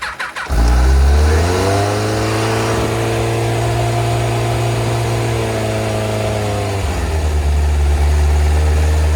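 A stock 2003 Kawasaki ZZR 1200 motorcycle starts cold with the choke on. A short cranking burst catches into a loud, steady idle that hums evenly, then the pitch shifts slightly near the end, with no voices.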